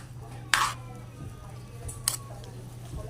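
A spoon stirs paklay stew in a cooking pot, giving two short metallic clinks about a second and a half apart over a steady low kitchen hum, with no talking.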